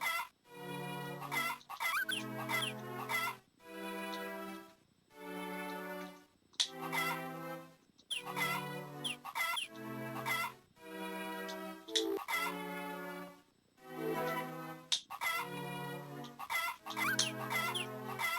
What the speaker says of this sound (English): You guys are gonna hear a lot of chicken sounds, by the way